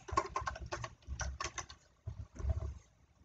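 Someone types on a computer keyboard in a few quick bursts of clicky keystrokes with short pauses between them, close and fairly quiet.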